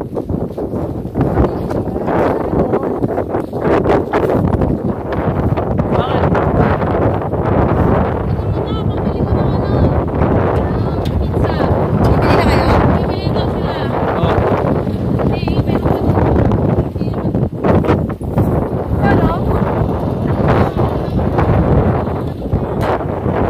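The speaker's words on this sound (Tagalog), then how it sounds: "Sarap ang hangin mga kuya." Steady wind across rice paddies rumbles and buffets the microphone throughout, with people talking over it.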